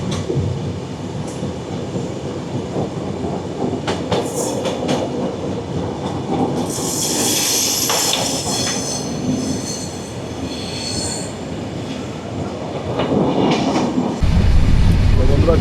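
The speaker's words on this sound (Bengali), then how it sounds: "দেখুন যে সামনে কিন্তু ইঞ্জিনটা বগি নিয়ে ঝিকঝিক ঝিকঝিক করে যাচ্ছি আমরা সামনের দিকে" Sundarban Express passenger train rolls along with its engine pulling coaches, a loud steady rumble with rhythmic wheel clatter and bursts of high metallic squealing from the wheels, heard from on board throughout.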